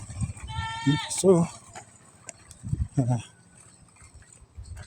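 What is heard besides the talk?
goat bleating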